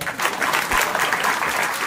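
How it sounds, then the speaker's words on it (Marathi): An audience at a kirtan claps for the chopdars in a dense, steady burst of applause that holds evenly throughout. "चोपदारांसाठी टाळ्या वाजवायच्या."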